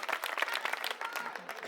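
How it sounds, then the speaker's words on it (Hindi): A crowd at a political rally in Delhi's Model Town claps, a brief burst of dense, close applause with faint murmuring mixed into it. "इसके लिए ताली बजा दो पहले"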